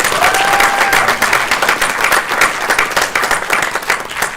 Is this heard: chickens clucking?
no